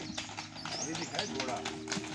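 Horse hooves clip-clopping at a steady walking pace nearby, with people talking over the hoofbeats throughout.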